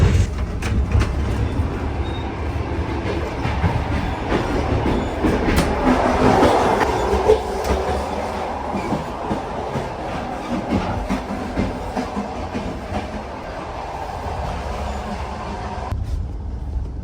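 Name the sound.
train running on rails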